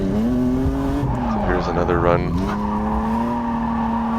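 A car drifting on a track during the first drift session of the year, engine droning steadily with tire squeal rising in the middle, while someone talks over it.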